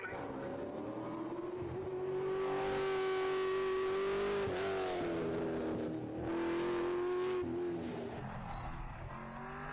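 A super late model race car roars around the UMI Motorsports Park track, its engine rising and falling through gear changes, loud and close for most of the stretch, with a brief dip in the middle before climbing again.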